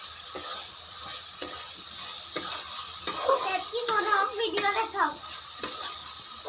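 Steady sizzling of tomatoes frying in hot oil for a fish curry over a wood-fired stove, with occasional stirring scrapes and someone speaking over the cooking.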